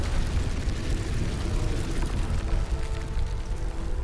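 A Confringo fire spell from Hogwarts Legacy erupts into a sustained, dense explosive rumble that stays loud and boomy through all four seconds with no break.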